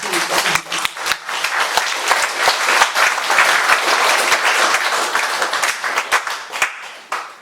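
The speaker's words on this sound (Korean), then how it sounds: "큰 박수 한번 주세요." Loud, lively applause from the audience at a Catholic parish council general assembly, with sharp individual claps standing out in a full crowd clatter that swells and then tapers near the end.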